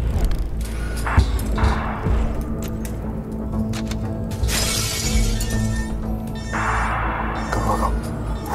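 Glass shattering in the video game The Last Worker, with bright, crashing bursts of breakage heard a couple of times over a low ambient hum, mixed with thuds and clatter.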